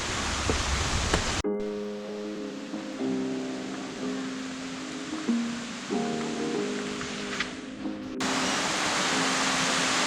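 The Silver Waterfall near Sapa, Vietnam, on a bitterly cold day gives a steady, hissing roar of falling water, loudest at the start and end, with sustained musical tones laid over it through the middle.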